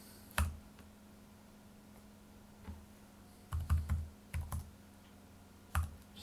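Someone typing numbers into an Excel spreadsheet on a computer keyboard: scattered key clicks, a few single taps and a quick cluster in the middle, fairly close and quiet with no talking.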